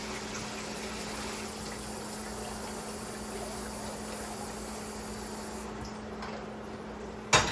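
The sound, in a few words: water being poured into curry while cooking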